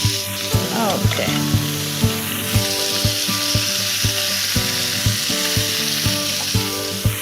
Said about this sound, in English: So we'll sear it well on both sides.